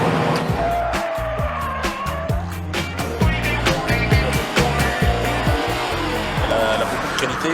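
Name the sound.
Subaru Impreza GT Turbo car accelerating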